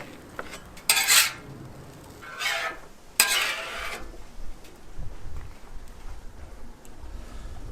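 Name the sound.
griddle fried rice being put into a bowl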